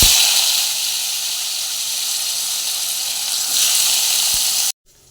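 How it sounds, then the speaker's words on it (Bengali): Potatoes fry in hot oil with a loud, steady close-up sizzle and hiss that holds evenly, swells slightly near the end, then cuts off abruptly; no one speaks. "তো একটু আলু ভেজে নিই"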